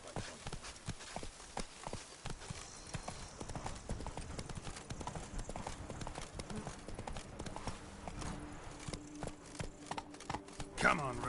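The horse Roach galloping in a video game, a rapid, steady drumming of hoofbeats kept up throughout at moderate level, with a voice calling out over it and a louder thump near the end.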